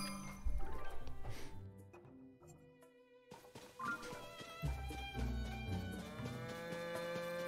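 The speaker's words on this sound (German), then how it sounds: "Da kann er endlich wieder die Zelda-Kuh melken." Video game cow mooing in Zelda: Tears of the Kingdom near Hateno village, heard amid the game's music with melodic tones and light clinking, fairly faint and with no talk.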